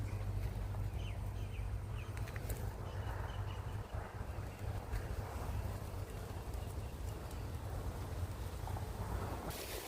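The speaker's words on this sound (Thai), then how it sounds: "ลม ลมแรงนะโอ้ย ลม ว้ายลมแร ง ลมพัดลมพัด" Strong wind gusts across a rural pond-side spot, a steady loud rumble of buffeting air against the microphone that persists through the whole stretch, with faint rustling above it.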